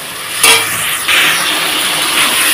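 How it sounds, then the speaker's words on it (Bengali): Green chilli paste is stir-fried with a little water in a pan, giving a constant sizzle with a few sharp scraping strokes and brief louder bursts as it is moved around. "এটা দিয়ে লঙ্কাটা দিয়ে ভালোভাবে কষিয়ে নেবো।"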